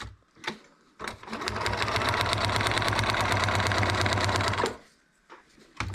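A sewing machine stitches a paper-pieced quilt block in one continuous, rapid, rhythmic run of about three and a half seconds, close and clear, framed by brief handling clicks before and after.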